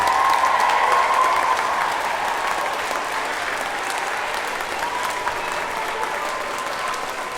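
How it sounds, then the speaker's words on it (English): Audience applause rings out after a children's big sing event, a steady wash of clapping from a large crowd that starts strong and stays fairly level, fading slightly over about seven seconds. "So I think you owe yourself a massive round of applause for working so hard today."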